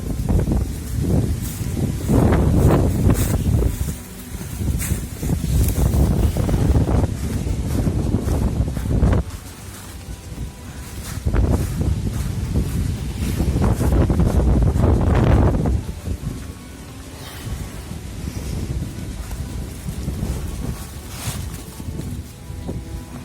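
Gusty wind buffets a yard on a blustery day, rising and falling in strong roaring surges with loud microphone rumble, continuous and close with no voices.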